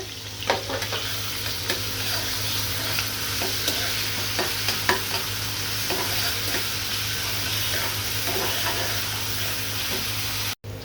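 Garlic-onion spice paste frying lightly in a pan for taro-leaf bhaji before shrimp go in, a continuous soft sizzle with occasional stirring clicks, close and steady, no talk.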